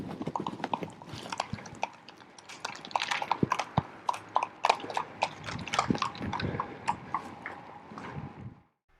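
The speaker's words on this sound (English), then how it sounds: "possibly a few horses" Horses clip-clop along a trail through old beech woodland, a brisk, irregular patter of hoofbeats at moderate distance that carries for several seconds before fading out, with no voices.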